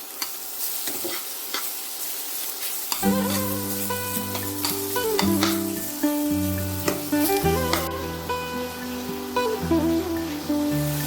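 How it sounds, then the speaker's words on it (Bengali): Ridge gourd fries in a pan with a crackling sizzle that swells after a few seconds, with scattered pops and stirring knocks while a low tonal hum sits underneath; no speech. "ঝিঙেটাও হালকা হালকা হলুদ রঙের কালার হয়ে গেছে একটুখানি ভেজে ভেজে নিয়েছি"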